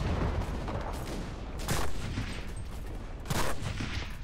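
A tank takes artillery fire in the WWII shooter Enlisted, set in North Africa: a dense, constant roar of battle with two heavier booming bursts landing a couple of seconds apart, loud and close.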